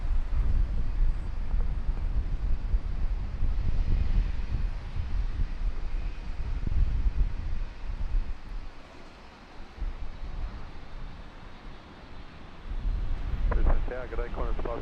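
A Dash 8-200 turboprop at Brisbane Airport gives a steady, moderately loud engine drone with wind buffeting, fading somewhat in the middle before swelling again near the end.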